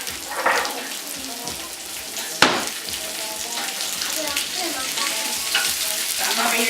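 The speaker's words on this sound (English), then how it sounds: "I'm just doing these shrimp, letting them get nice and a little bit brownish, so to speak, goldenish." Shrimp fry in a pan for a fettuccine shrimp Alfredo, giving a steady close sizzle with scattered crackles and one sharp utensil knock partway through, and faint voices murmur in the background.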